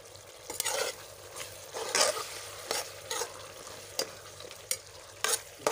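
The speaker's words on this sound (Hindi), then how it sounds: "अभी डालेंगे सब्ज़ मिर्चें।" Green chillies fry and are stirred in a pan for pumpkin curry, giving a soft continuous sizzle broken by repeated scraping strokes of a spoon against the pan at close range.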